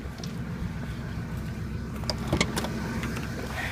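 A pickup truck idles nearby with a steady low engine rumble that runs throughout, with a few light clicks and rattles toward the end.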